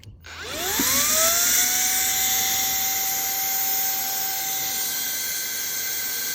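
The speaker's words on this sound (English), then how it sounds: "it empties that brake fluid reservoir out real fast" A homemade fluid suction rig sucks brake fluid out of a reservoir: a close, steady mechanical whine that rises in pitch as it spins up, then holds continuously over a broad airy hiss with no talking.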